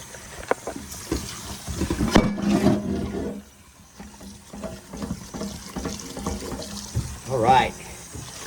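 A rusty pan washed with soapy water under a running tap, splashing and trickling in uneven bursts with scrubbing noises, while a person talks over it.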